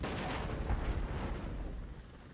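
Missile strike on enemy artillery in the wargame Flashpoint Campaigns, heard as a continuous loud rumbling roar of blasts, heaviest in the middle and easing off toward the end.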